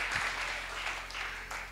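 A church congregation claps together in a brief, dense burst of applause that holds steady and fairly close throughout.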